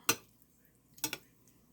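Cooked leftover shrimp tossed with seasoning in a pan for linguine, giving one sharp clink and then a quick double clatter of pan and utensil, close and brief.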